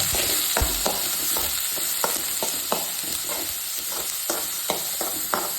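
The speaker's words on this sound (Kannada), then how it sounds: "ಈಗ ಇದೆರಡು ಬಾಡಿಸ್ಕೊಳ್ಳೋಣ ಸ್ವಲ್ಪ" Garlic sautéing in hot oil in a pan for soya cutlets, a continuous close sizzle with rhythmic spoon stirring and scraping clicks throughout, no talking.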